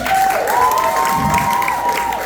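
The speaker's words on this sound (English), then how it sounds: "Give a big round of applause." Applause and cheering from a variety show audience for the performers, loud and continuous throughout, with a few whistles rising above the clapping.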